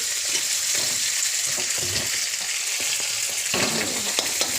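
Spice paste for a Bengali crab curry fries in a pan with a continuous, loud sizzle and crackle, broken by stirring scrapes and occasional bursts of spattering.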